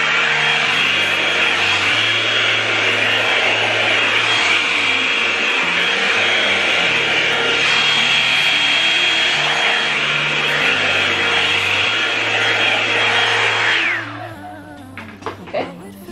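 Hair dryer blowing out hair, a steady loud whine and rushing airflow with a low pulsing hum for about fourteen seconds, then cutting off abruptly into a few quiet handling sounds.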